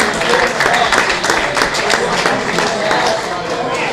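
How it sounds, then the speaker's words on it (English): A crowd gives a steady, dense round of applause for Coach Sean Dodd and the Gilmour Lancers football team, loud and sustained for several seconds with cheering mixed in. "Nice round of applause for Coach Dodd and the Lancers."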